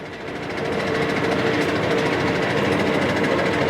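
A LeBlond Regal 15 geared head engine lathe runs with its threading feed engaged, giving a steady, dense mechanical whir and hum that rises briefly at the start and then holds level and close, with no voices.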